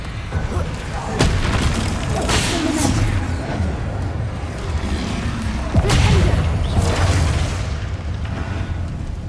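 Bombarda and Confringo spells burst in heavy booming blasts during combat in Hogwarts Legacy. Several explosions land over a rumbling battle din, with voices calling out between them.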